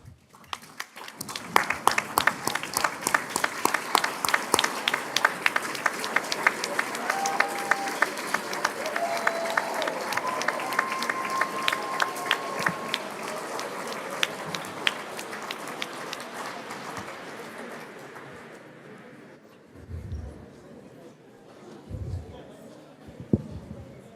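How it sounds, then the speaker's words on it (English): At an attorney induction ceremony, a large crowd gives a long standing round of applause for family members, dense clapping that swells and holds for close to twenty seconds before tapering off, with a few voices afterward. "give them a big round of applause"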